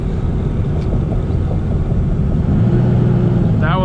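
A 2001 Dodge Ram 2500 with a Cummins engine and a six-speed manual gearbox rumbles along from inside the cab, its low engine drone shifting and rising as it downshifts partway through.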